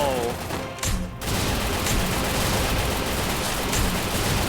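Dense, continuous bursts of rapid gunfire with booming blasts from an explosive gun in the video game Free Fire, loud and sustained, briefly dropping out near the start before resuming at full intensity.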